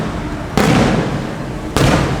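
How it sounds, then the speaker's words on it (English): Fireworks explode close by at a street festival near Naples, two loud booming blasts about a second apart, each followed by a crackling roar and no talking. "They're doing some sort of firework."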